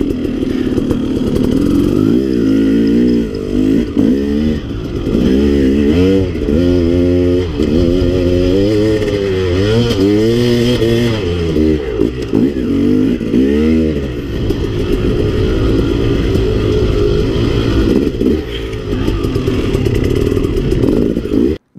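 A four-stroke dirt bike on a steep cliff-edge trail revs and labors nearby, its engine pitch rising and falling through repeated throttle blips and strained climbs, loud and constant with some clatter.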